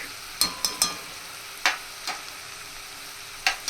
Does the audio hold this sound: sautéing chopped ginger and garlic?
yes